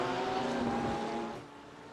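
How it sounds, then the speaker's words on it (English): A BMW race car at Misano powers down the straight, its engine a steady, loud harmonic drone that holds level before easing slightly and fading toward the end. "See if Zinn's able to use that BMW horsepower on the straight."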